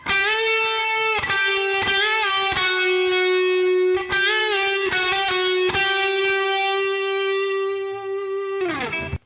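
Distorted electric guitar playing the harmony part of a song, loud and sustained with held notes, bends and quick hammer-ons and pull-offs, several phrases separated by sharp picked attacks, alone without talk.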